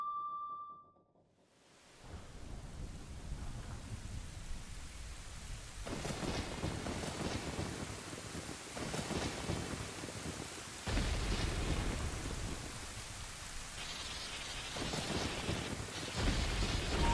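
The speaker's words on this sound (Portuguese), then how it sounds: "E ao tocar a música do Zelda, começa uma tempestade sinistra e um raio quebra a tumba." A stormy rumble of thunder and rain from Zelda Ocarina of Time builds after a brief tone and silence, with sustained broadband noise and louder surges, like a sinister storm and a lightning strike breaking open a royal tomb.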